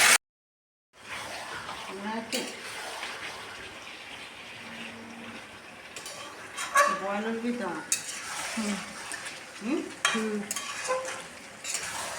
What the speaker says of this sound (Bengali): অনেকটা মাংস তো না ধরে কড়াইতে নাড়ানো যাচ্ছে না।